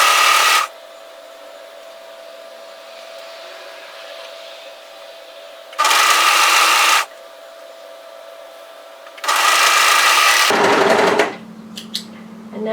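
A sewing machine stitches knitted sweater pieces together in three short bursts of whirring, separated by quiet pauses with a faint steady hum between runs.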